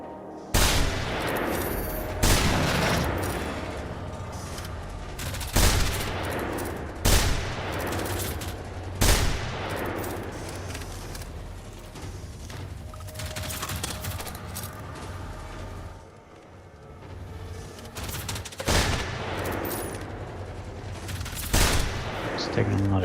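Repeated gunshots from the video game Generation Zero, loud sharp blasts at irregular intervals over a busy game soundscape, with talking heard between shots.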